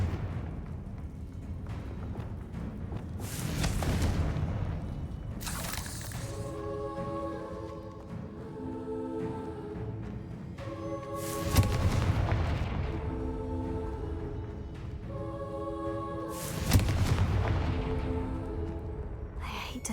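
Confringo blasting-spell explosions in Hogwarts Legacy: several booming blasts at intervals, each with a bright crackling burst, over a sustained musical score.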